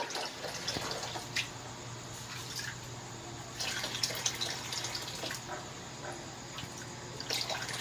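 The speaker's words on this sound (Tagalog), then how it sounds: "Combine hot water with tap water." Tap water pours into a basin for a bed bath, a soft, continuous trickle with intermittent splashing drips, fairly faint and close.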